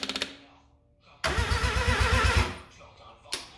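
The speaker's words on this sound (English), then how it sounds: "And now I've got a test run set up. Ignition on, fuel pump." A rebuilt rotary engine fires up on a test stand, a sudden loud burst of rapid, pulsing combustion that runs for about a second before dropping away, with a short sharp pop near the end.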